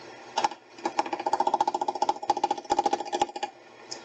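A woodturning lathe turning a goblet at its lowest speed gives off a close, loud rhythmic rapid knocking and whirring that comes in uneven bursts before trailing off, with no voices.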